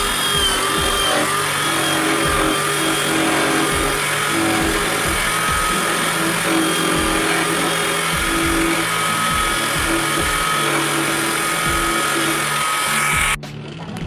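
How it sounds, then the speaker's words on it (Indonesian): A power drill bores finger holes in a square-cut coconut shell for a ring, a loud, continuous high whine with rhythmic grinding bumps as the bit works the shell, cutting off sharply near the end. "Selanjutnya kita bor sesuai dengan ukuran lubang jari yang akan kita pergunakan"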